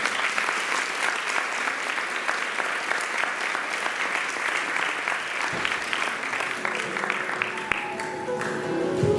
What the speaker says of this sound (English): Can everybody give him another round of applause?